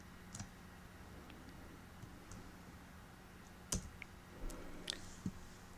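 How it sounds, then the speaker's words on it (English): A computer mouse button gives a few faint, sparse clicks against a quiet hum, spaced irregularly, with no voices. "This time I'm going to click and hold my left mouse button."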